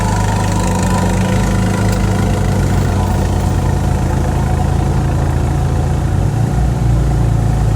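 A 17.5HP tow-behind mower engine labors loudly and steadily as it bogs down in heavy grass, a continuous low rumble with slight dips in pitch, with no talking.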